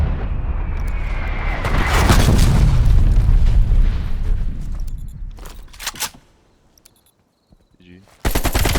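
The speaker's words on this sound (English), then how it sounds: "Artillery inbound." Video game combat: a heavy rumbling artillery barrage with rapid machine-gun fire builds and sustains loudly for several seconds, then cuts to near silence broken by a few sharp bursts and a final loud volley.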